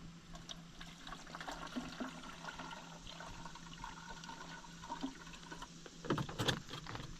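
Muriatic acid is poured from a container into a bucket of water while cleaning a pool salt cell, giving a quiet, steady liquid trickle and splash that grows slightly louder near the end.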